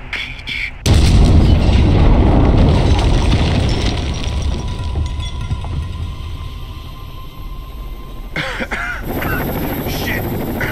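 Combat helicopter in the video game Rainbow Six: Vegas 2, a loud rotor roar that bursts in suddenly and thumps steadily, easing slightly over time, with a voice and radio chatter breaking in near the end.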